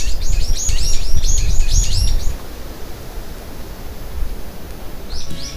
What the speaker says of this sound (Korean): 와, 까치들 정말 많다.